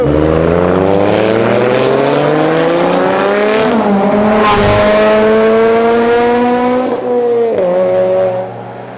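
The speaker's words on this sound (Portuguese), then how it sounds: "Tá vindo um 2JZ de boa, tranquilão." BMW car fitted with a Toyota Supra 2JZ engine, revving close by: a loud, rising engine note with strong harmonics climbs steadily, drops sharply on each gear change, then climbs again before fading slightly at the end.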